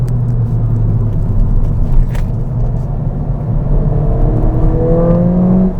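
Stock Ford Fiesta ST engine heard from inside the cabin, a loud droning rumble that climbs in pitch as it accelerates, with rising revs toward the end as it pulls through the gears.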